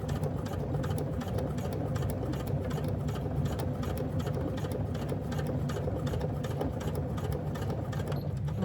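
A sewing machine stitches a handbag in a steady, continuous whir with a rapid rhythmic needle chatter, running close and moderately loud with no talk.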